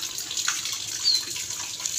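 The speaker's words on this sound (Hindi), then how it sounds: "हजे भी परनारे चल रहे हैं और गलियां भर गई ने पानी नाल" Rainwater runs from roof drainpipes into flooded lanes after about an hour of heavy rain, a continuous soft splashing and trickling stream at moderate distance, with no voices.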